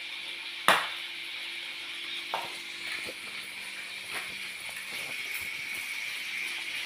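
A machete strikes fish after a fishing trip with one sharp, loud chop, followed by faint light knocks over a steady sizzling background of food frying nearby.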